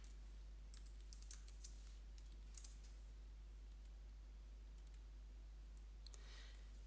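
Typing on a computer keyboard, faint scattered keystroke clicks in short bursts over a low steady hum, with quiet gaps between the bursts.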